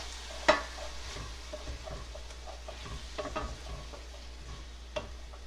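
Blended tomatoes, green chilies and carom seeds stirred in a pan over medium heat, a quiet simmering sizzle with soft scraping strokes and a couple of sharp utensil knocks, no voices.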